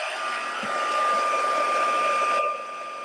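Heat tool heat-setting a craft piece for a gift card holder, a steady close airy whir with a fixed whine, held for a few seconds before dropping slightly in level.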